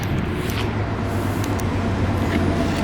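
A Mazda Eunos Cosmo with a 20B rotary engine, boost leaks fixed and wastegate actuator connected, pulls away on a test drive, a steady low engine drone heard from a distance amid road noise.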